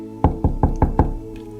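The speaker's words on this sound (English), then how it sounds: "knocks on the women's room door" Five sharp, evenly spaced knocks rap on a women's restroom door, close and loud, with a quiet pause after.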